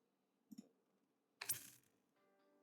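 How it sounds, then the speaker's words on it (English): A short click sounds in the visual novel Fate/Stay Night, a soft tap followed by a louder, sharper crackling click, then a faint hum lingers over a quiet background. "There's a clicking sound."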